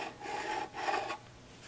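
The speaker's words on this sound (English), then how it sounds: "we're going to take this file and start filing down the fret" A metal file rasps across a guitar fret in two steady back-and-forth strokes, close and clear, followed by a quieter pause with no talking.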